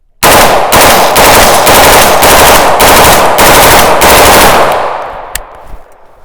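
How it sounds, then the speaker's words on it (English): An M16A1 rifle loaded with Monarch steel-case ammunition fires full-auto bursts, a very loud, close hammering of rapid shots in several pulses that end in a fading echo and a last faint click. "we're gonna run it in full auto. I'm gonna do it in a few bursts."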